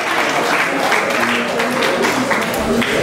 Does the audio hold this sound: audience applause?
yes